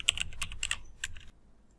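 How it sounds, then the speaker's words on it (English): Rapid clicking of keys on a computer keyboard as an npm command is typed, a close, dry burst of keystrokes lasting just over a second before falling quiet. "you need to type this npm audit"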